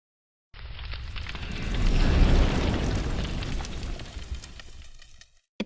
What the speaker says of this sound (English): It sounds like something's burning.